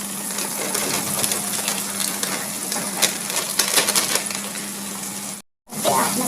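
Fava beans frying with onions in a pan, a steady close crackling sizzle with faint scraping, broken briefly near the end.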